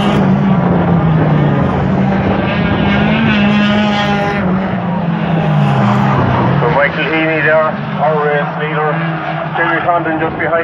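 Stock car engines at Waterford Raceway roar loudly at the start of a race, their pitch rising and falling as the cars pull away, while a commentator talks over them.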